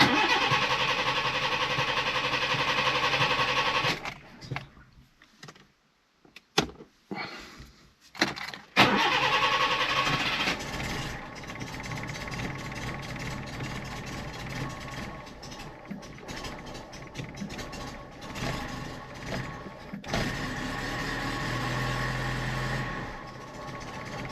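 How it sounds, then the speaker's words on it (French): A 1978 first-generation Honda Accord with a low idle setting, whose valve clearance is being adjusted, cranks and catches after a loud engine run, then settles into a steady, close idle that rumbles on, with no one talking. "il y a un problème de ralenti parce qu'il est un petit peu bas"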